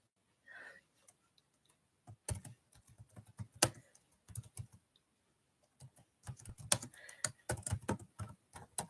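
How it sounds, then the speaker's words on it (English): Someone types on a computer keyboard in irregular bursts of quick, close clicks separated by pauses, fairly quiet, with little else in the room. "I love the sound of typing."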